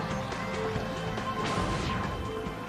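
Loud crashing and banging amid a noisy, echoing arena din as a combat robot smashes through obstacles, with a heavy smash standing out partway through.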